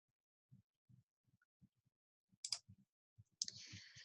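A computer mouse clicks softly and repeatedly on a spreadsheet cell. The light, close clicks fall in an irregular rhythm against near silence, with a short hiss near the end.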